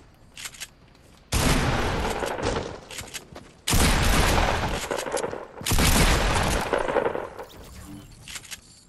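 Video game gunfire in an aggressive battle-royale match, coming in three long, loud bursts of rapid automatic fire separated by short quieter gaps.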